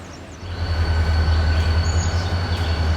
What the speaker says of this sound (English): That was a long empty coal train. So, got more coming.